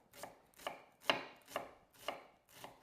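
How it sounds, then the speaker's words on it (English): A sharp knife finely slicing red onion on a board, six crisp, evenly paced chops close by with no voices. "so slice in red onion. Again, super, super fine."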